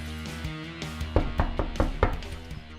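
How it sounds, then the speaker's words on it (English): Knocking at a door in the Everlasting Summer visual novel game: a series of firm, close wooden knocks in an uneven rhythm, getting louder toward the end. "Somebody was knocking at the door"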